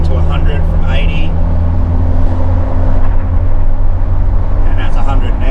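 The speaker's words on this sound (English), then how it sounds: "So it's accelerating to 100 from 80." TF Holden Rodeo with a front-mount intercooler and custom intake plenum accelerating from 80 to 100 km/h in 5th gear at full throttle, a loud steady engine drone and road roar heard from inside the cab.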